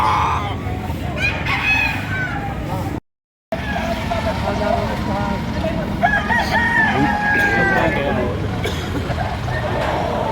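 A gamecock stag, an eleven-month-old medium-size fowl, crows loudly nearby in a bustling outdoor setting with other birds, engine noise and people talking, its calls rising clearly over the busy background.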